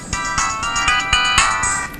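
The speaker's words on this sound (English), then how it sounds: "Somebody's phone is ringing." Mobile phone ringtone sounding at a township board meeting, a loud, bright repeating electronic melody with steady pulsing notes heard alone for about two seconds.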